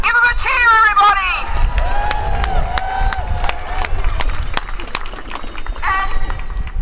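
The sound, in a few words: protest crowd cheering for first-time demonstrators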